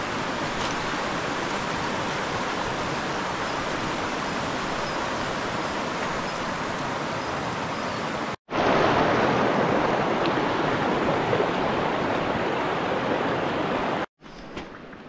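The Gaap River in Namibia flowing near its confluence with the Kiesep, a continuous dense rush of water heard close and steady, broken by two short cuts in the recording.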